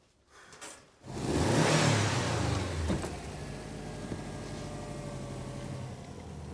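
A car engine starts up with a short crank, then revs loudly and settles into a rough, uneven idle that hums steadily close by with small surges.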